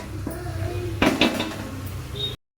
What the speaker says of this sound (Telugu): ఇది నూనె తేలాలంటే మనం కాసేపు మూత పెట్టుకుందాం.